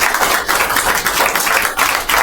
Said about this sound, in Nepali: एकचोटि ताली बजाएर परमेश्वरलाई धन्यवाद दिनु